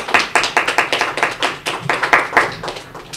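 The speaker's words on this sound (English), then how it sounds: "Give them a round of applause, please." Sustained audience applause at an Easter festival press conference in Virgin Gorda, greeting the festival committee: a dense run of hand claps with steady rhythmic surges, close and fairly loud, with no voices over it.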